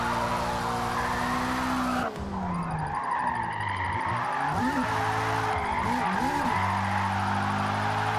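Car drifting in Forza Motorsport, played on a Moza R12 wheel, with a loud, sustained engine roar and continuous tire squeal, punctuated by clutch kicks that make the revs dip and surge.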